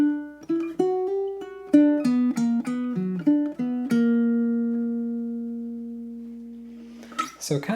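Baritone ukulele picks a single-note walk down, a quick run of plucked notes stepping lower that settles on a long ringing final note fading out, close and clear, with a brief voice at the very end.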